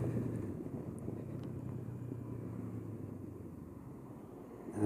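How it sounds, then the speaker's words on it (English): A 2019 Honda CB500X motorcycle engine burbles steadily while the bike is ridden along winding roads, a low continuous rumble mixed with wind buffeting, no voices. "I hear that burble. What an amazing little bike."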